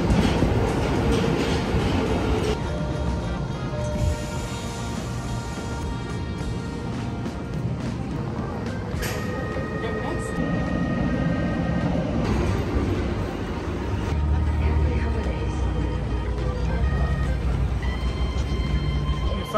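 A Tokyo subway train rumbles and rattles through a station for about twenty seconds, with steady loud wheel and motor noise, brief clicks of track joints, and a faint announcement chime.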